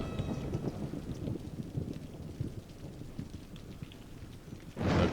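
A thunderstorm with rain and wind in the city-builder Cities: Skylines during a natural-disaster scenario, giving a steady rushing roar of rain and gusts with low rumbles and a sharper burst near the end.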